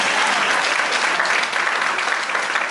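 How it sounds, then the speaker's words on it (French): A church congregation applauds and cheers for Jesus in a French-language service, steady, dense clapping from a large crowd that stays loud and even throughout with no talking over it. "Est-ce qu'on peut acclamer pour Jésus?"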